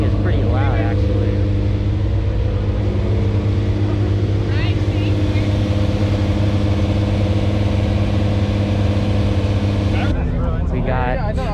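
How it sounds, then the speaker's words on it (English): A loud Lamborghini Countach engine rumbles with a deep, steady drone at a cars and coffee meet, then its note shifts as it pulls away, with voices talking over it. "We got the Countach leaving. This thing is pretty loud actually."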